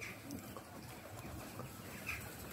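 Pigeons call and coo outdoors in a street where food is set out for stray cats, with soft scattered calls over a steady low background hum.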